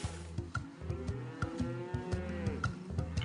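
Cartoon cows moo repeatedly in the Putt-Putt Pep's Birthday Surprise video game, several layered low bellowing calls in steady succession over a faint game background, with no talking.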